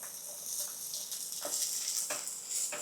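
Garlic, curry leaf and red chili frying over low heat in a pan for Cantonese-style salt and pepper tofu, giving a soft, steady sizzle with faint crackles and no voices.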